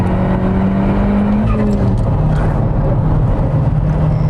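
A car accelerating hard on a test track with Goodyear Eagle F1 Supersport tyres, its engine roaring loud and close and climbing in pitch through the gears for the whole stretch, with a brief hint of tyre noise.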